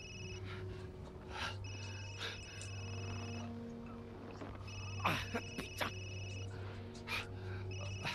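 Phone ringing in the horror video game Resident Evil 8, a repeating electronic ring in bursts over a low ambient drone, with a few short background noises.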